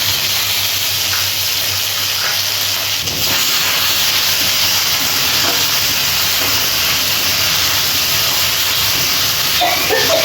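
Loud, steady hiss of ginger-garlic paste sizzling in hot oil with dried red chilli tempering, close up and continuous, with no voices.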